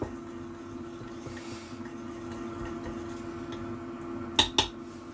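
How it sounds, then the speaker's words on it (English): Food in a bowl is stirred while preparing air-fried roast leg of lamb with golden syrup, a quiet, low background hum broken late by two or three sharp clinks of a utensil against the bowl. "Give this a little stir."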